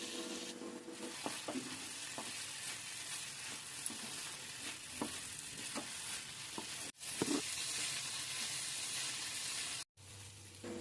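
Sprouts frying in a pan with lemon juice, stirred steadily through a continuous sizzle, with repeated scrapes of the spoon and two brief pauses; no talking.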